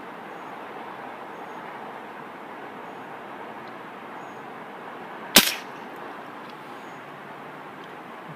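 A single sharp report from a Crosman 1300 or 2240 air pistol fired outdoors in a backyard, one crisp near crack standing out over steady low background noise.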